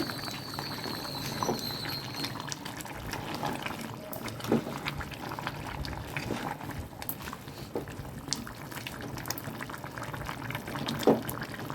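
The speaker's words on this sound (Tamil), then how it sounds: "5 நிமிஷமாக பாருங்கள், நண்டு மசாலாலேயே நல்லா கொதிஞ்சிட்ருக்குங்க" Crab curry simmering in masala in a pot, giving a soft continuous bubbling with scattered pops and small splutters, fairly close and quiet, with no one speaking.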